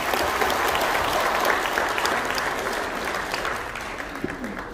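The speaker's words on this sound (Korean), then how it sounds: "여러분 다시 한번 박수 부탁드리겠습니다" A banquet crowd at an 80th birthday celebration at the Walkerhill Hotel claps in a thick, even wash, sustained throughout and easing a little toward the close, with a faint voice surfacing near the end.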